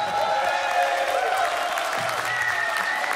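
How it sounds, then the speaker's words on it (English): A concert audience at Middleton Hall claps in a dense, sustained burst of applause, with scattered voices and faint cheers mixed in throughout. "Can you all just clap?"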